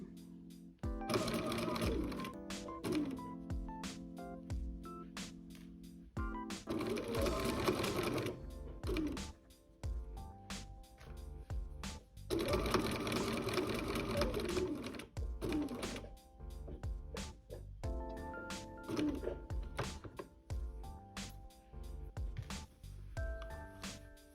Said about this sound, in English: you will sew down to the corner, pivot there, and you will sew all the way over to the other corner and will end your seam there